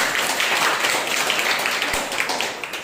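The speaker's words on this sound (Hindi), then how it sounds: "इससे हम सभी का स्वागत है, एक जोरदार ताली बजाइए।" A church congregation at a Sunday morning service breaks into sustained, dense applause that stays loud and steady throughout, with no talking over it.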